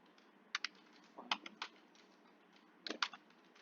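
Keys on a computer keyboard are tapped in small irregular bursts of quiet, close clicks with brief pauses between them, no voices.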